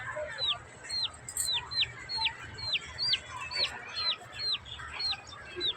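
A pet hen gives a run of about a dozen short, evenly spaced clucking calls, close and fairly faint over low room noise.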